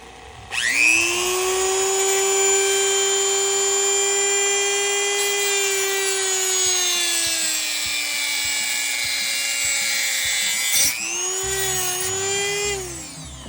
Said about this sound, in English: I like to use that Dremel tool a lot when I'm working on this kind of stuff